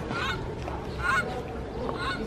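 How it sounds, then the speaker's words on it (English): Goose or duck honking at Queens Botanical Garden, three loud nasal honks in a steady rhythm against continuous outdoor background noise. "The duck makes duck noises."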